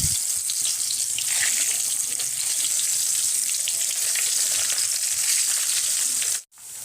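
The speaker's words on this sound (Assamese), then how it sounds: "বেঙেনাখিনি ফ্ৰাই কৰি হৈ গৈছে।" Eggplant frying in hot oil in a wok, a loud, dense and continuous sizzle heard close up, cutting off abruptly near the end, with no talk.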